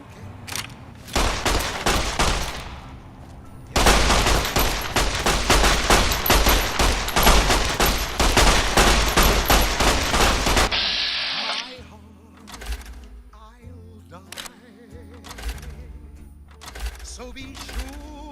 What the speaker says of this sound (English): there's a lot of people shooting me